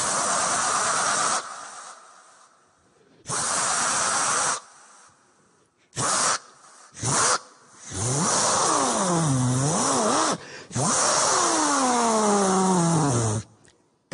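A voice imitates a car engine starting and revving: bursts of breathy hissing cranking, then rising and falling throaty vroom sweeps, delivered close and loud with short pauses between attempts.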